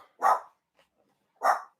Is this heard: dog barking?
yes